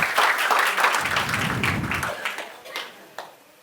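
Audience applause for a magic act on stage, a dense burst of many hands clapping that thins out and fades over a few seconds, with scattered claps near the end.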